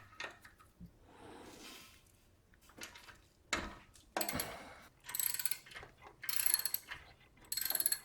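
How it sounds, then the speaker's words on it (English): Socket wrench ratcheting on the brake caliper bolts of a 2018-on Audi A4/S4 B9 rear brake, a 13mm 6-point socket clicking in several close bursts of quick mechanical ticks separated by brief pauses. "Remove the 2 bolts of the caliper."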